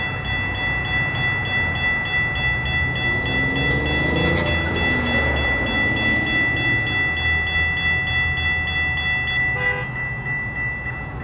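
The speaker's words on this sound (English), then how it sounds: "northbound, one of the morning arrival northbound trains" A northbound train rumbles past at close range at Racetrack Road, Jacksonville, Florida, steady and loud, with a sustained horn tone running throughout and a brief bell-like clatter near the end.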